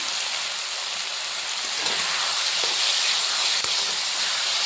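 Chicken with ground green chilli, ginger, turmeric and Kashmiri chilli powder frying in a pan, a steady close hiss and sizzle with a few small pops, no voice.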